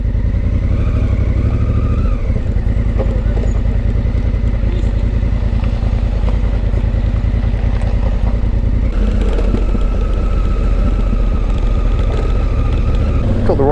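A Honda CRF1000L Africa Twin motorcycle rides off-road, its engine a loud, steady, close drone with faint clatter and rumble from the rough track throughout.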